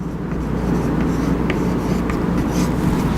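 A pen scratches out a sketch by hand during a math lesson, with soft, steady strokes under a constant broadband background noise.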